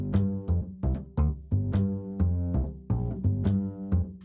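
Dry MIDI bass line with little ambience and no reverb, plucked notes in a steady rhythm, close and clear with no other instruments or voices.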